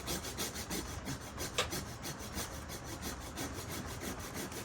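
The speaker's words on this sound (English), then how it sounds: "I like the way Tony from Tony's Bonsai always speeds up his sawing." A hand saw cuts rapidly through a bonsai tree branch in a fast, even back-and-forth rhythm, close and continuous with no talking.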